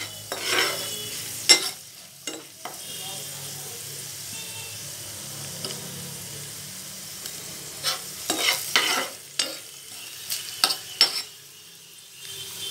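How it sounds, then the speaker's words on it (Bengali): Potato pieces frying in a pan with turmeric and salt for a Maggi noodle dish: a steady low sizzle broken by sharp, irregular scrapes and clatters of a spatula stirring, close and fairly quiet. "আলুগুলো ভাজা ভাজা হয়ে গেছে"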